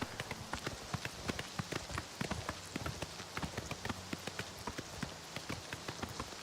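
A chestnut horse ridden in Oblivion Remastered clip-clops along at a brisk, steady pace, its hooves striking in quick regular beats over a constant hiss like rain.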